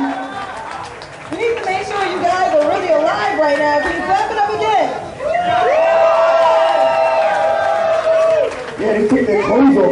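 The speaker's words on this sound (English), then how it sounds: "make some noise for these girls" Crowd at a body painting contest cheers and whoops loudly, with sustained shouts and screams rising and falling under an excited voice on a microphone.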